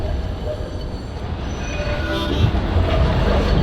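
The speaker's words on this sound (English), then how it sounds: "Just wait for that tram to piss off." A city tram rolls past on its rails, a broad low rumble that swells steadily and grows louder toward the end, with no talking over it.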